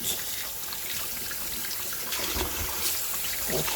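Tap water runs steadily into a sink while food is rinsed for Jamaican pumpkin soup with lamb's neck, a close, continuous splashing trickle with slight swells and no talking.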